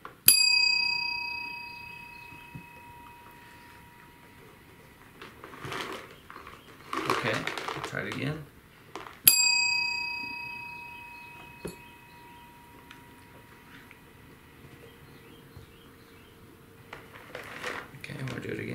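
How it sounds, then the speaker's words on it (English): A bell rung during cat training chimes twice with clear ringing tones, each strike decaying slowly, alongside soft rustling and handling noises and brief speech nearby. "Go ahead with the bell."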